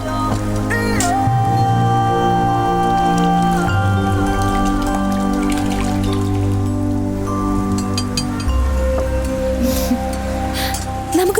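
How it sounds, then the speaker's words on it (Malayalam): Steady rain falls in a continuous hiss and patter, with sustained musical tones layered over the downpour throughout. "ഇപ്പോഴോ? മഴ തോർന്നിട്ടില്ല."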